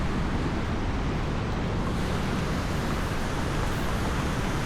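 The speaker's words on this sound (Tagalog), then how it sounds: "grabe ang alon kasi nga open sea na to" Rough open-sea waves in the West Philippine Sea rush and churn in a loud, constant wash with wind, steady throughout and without speech.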